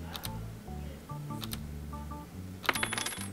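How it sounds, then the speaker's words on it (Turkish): A key drops out of a cookie in the puzzle video game 12 Locks 2, a bright metallic clinking cascade near the end, over a looping ticking electronic game tune with no talking. "Ya, ya kurabiyeden anahtar çıktı."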